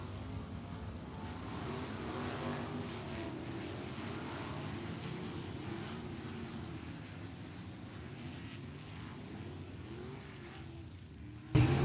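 Sprint cars in a 360 sprint car class at Wagner Speedway roar together in a four-wide salute lap, a loud sustained rumble of engines blending into a dense wash with wind noise, ending in a sharp burst near the end.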